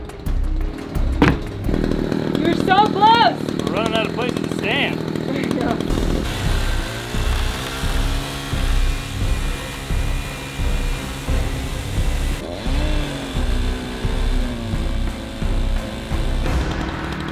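A chainsaw cuts into a brand new house, its engine buzzing in steady pulsing bursts close to the microphone after a short stretch of clattering and tool noise at the start.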